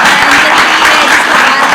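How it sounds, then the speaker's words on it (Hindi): Loud, dense audience applause for Rajeev during an escape room reaction show, a thick, unbroken roar of many hands clapping close and strong throughout. "और एक बार जोरदार तालियां राजीव के लिए"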